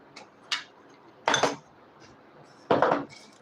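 A spoon stirs karela (bitter gourd) curry filling with ginger and lemon in a metal dish, making a few short, close clinks and scrapes at irregular intervals, with no talking.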